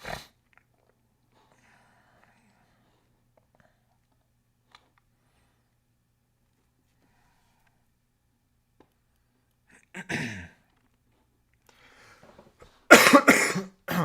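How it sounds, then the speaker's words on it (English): Mostly quiet, then a short cough near the ten-second mark followed by a louder, harsher cough burst close by toward the end. "I'm trying not to cough in the microphone"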